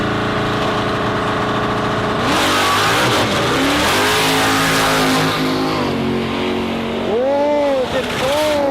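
A radial drag racing car launching down the Warwick Dragway strip, its engine roaring loud and close with rising, shifting revs, the tires giving a brief whine, and people talking over it.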